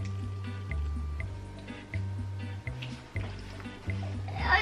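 Warm water runs and gurgles while filling a Soggy Doggy toy, with steady flow noise broken by small drips, splashes and squishy bubbling pulses.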